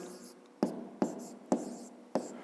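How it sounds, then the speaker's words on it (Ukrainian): Pen writing an answer to a fifth-grade maths exercise by hand: four short scratchy strokes at a steady rhythm, each with a sharp onset, close and quiet over a faint background hum. "Пишемо відповідь."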